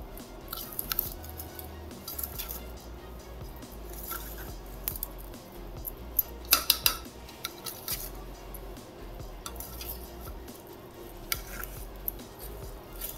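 Cut paneer pieces are mixed gently by hand into a thick marinade, making soft squelching and light scraping sounds with a few faint clinks against the bowl. The sounds are close and quiet, with no talking.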